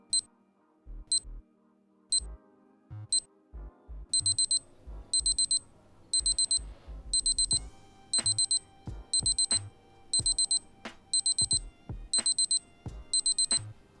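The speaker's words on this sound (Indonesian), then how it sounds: "dia akan bunyi di 5 detik terakhir waktu timernya" A Casio W-220H digital watch timer sounds a series of short, high electronic beeps. They start as sparse single chirps and build into rapid repeated bursts over soft background sounds.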